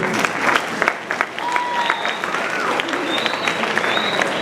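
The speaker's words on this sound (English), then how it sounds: "Can we applaud the band one more time?" A school audience applauds a band of young students at a youth event, with dense clapping throughout, cheers and whistles rising above it, and voices mixed into the crowd noise.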